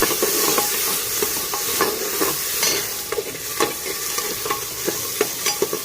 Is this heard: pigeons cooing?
no